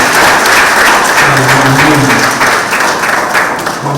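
Sustained audience applause fills a pageant hall at an International Women's Day event, a dense loud wash of many hands clapping throughout, with a faint voice briefly underneath.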